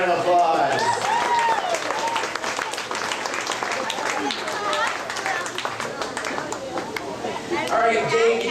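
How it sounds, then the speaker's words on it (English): Audience applause fills a Disney theme park studio show, a steady dense wash of clapping with cheers and crowd chatter mixed in, loud and close throughout. "Let's give him a nice round of applause."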